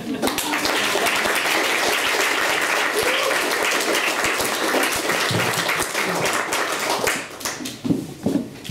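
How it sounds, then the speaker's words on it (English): Sustained applause from a comedy audience, dense steady clapping that fades out with a few scattered claps at the end. "one hand meeting another, is a great noise for Hannah Gamble"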